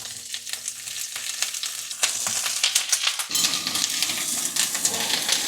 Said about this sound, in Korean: 이런 식으로 양배추를 볶을 거고